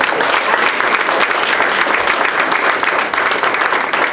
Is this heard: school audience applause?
yes